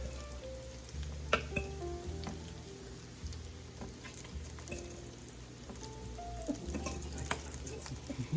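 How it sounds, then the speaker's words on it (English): Meatballs sizzling and simmering in a pot for a gluten-free pot roast, a steady close crackle and bubble with small pops throughout, no talking. "Meatballs in. I'll let that simmer."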